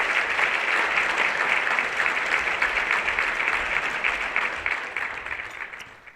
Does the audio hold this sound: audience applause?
yes